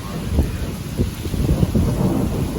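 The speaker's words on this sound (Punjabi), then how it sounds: "ਬੱਦਲ ਬਹੁਤ ਗੱਜੀ ਜਾਂਦਾ" Deep rumbling thunder rolls continuously beneath steady heavy rain with fine hail falling, loud and close, with no voices.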